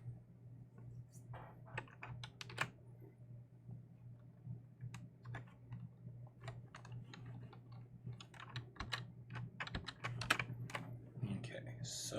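Computer keyboard typing at a desk, quick irregular clicks and clacks in bursts over a steady low hum, close and moderately loud, with scattered speech-like sounds mixed in.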